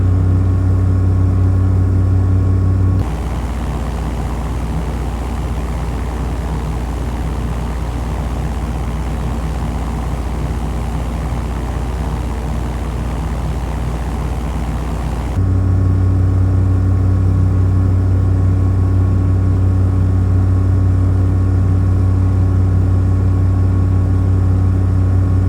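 Piper PA-28 light aircraft engine at Offutt during the takeoff roll: a steady, loud propeller drone that holds level for the whole stretch, shifting tone slightly midway, with no talking.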